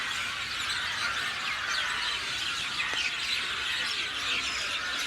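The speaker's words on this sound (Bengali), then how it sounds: "পাখির কিচিরমিচির শোনা যাচ্ছে।" Birds returning to their nests at dusk chirp and twitter in a steady, dense chorus among trees by a river in Bangladesh, with no voices over it.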